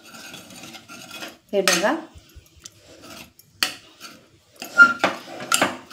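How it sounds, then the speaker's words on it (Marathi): A metal masher works cooked mustard greens inside a pressure cooker, giving scattered clinks, scrapes and soft squelches against the pot. A person speaks briefly between the close, uneven strokes. "आता आपण स्मॅशरच्या साहाय्याने परत स्मॅश करून घेऊया।"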